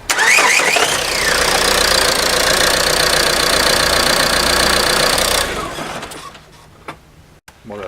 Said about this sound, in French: on va lancer le moteur pour remplir le filtre.